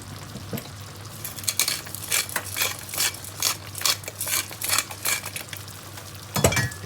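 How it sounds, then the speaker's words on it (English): A metal spoon clinks and scrapes against a shakshuka pan while nudging eggs among green pepper, a series of light irregular taps and clatters close by over a faint background hum, with no voices. "I'm going to use a spoon just to make sure that the eggs are nicely sort of sitting within the pan"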